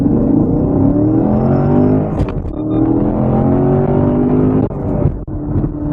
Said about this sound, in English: give it its first pull from 0 miles per hour up to 60